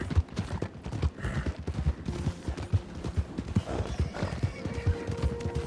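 A horse in Red Dead Online whinnies over a steady clip-clop of hooves at a gallop, with rhythmic thuds throughout and occasional gunfire-like bursts in the background.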